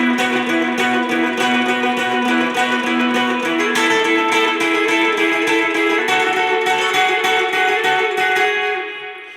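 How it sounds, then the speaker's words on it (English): Electric guitar playing the riff of a song, with dense, rhythmic repeated notes ringing steadily and loud throughout before tailing off at the end. "I'll play through the riff first of all and then we'll break it down."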